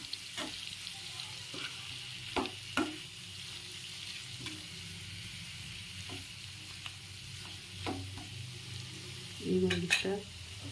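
Chicken masala frying in a pan under a steady low sizzle, with a spoon stirring and scraping against the metal in irregular bursts, close and clear, no talk.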